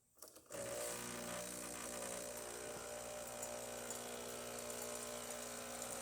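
Breville Barista Express espresso machine dispensing hot water after a full tune-up, a steady buzzing pump whine with hissing water starting after a brief quiet moment and continuing evenly, close and fairly faint.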